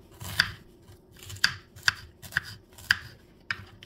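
Knife chopping onion into thin julienne strips for poblano rajas with cream, six crisp separate cuts at uneven intervals, close and fairly clear over a faint low kitchen hum.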